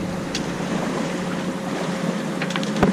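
A boat rides back toward the harbor at Mgarr ix-Xini on Gozo, with a steady broadband rush of engine, water and wind. A few brief splashes or knocks break through near the end, and no one speaks.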